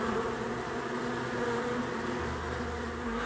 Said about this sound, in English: there's bees everywhere